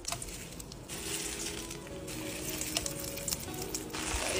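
Kuih bakul frying in hot oil, a continuous dense crackling sizzle with occasional small pops, close and steady with no voices.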